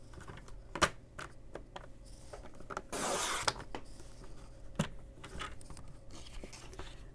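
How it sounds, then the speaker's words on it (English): Cutting an edge of patterned paper for card making: a short rasping slice of about half a second, set among faint scattered clicks and handling taps, close and quiet, with no talk. "now I'll turn it around and cut the other edge at 5 1/4"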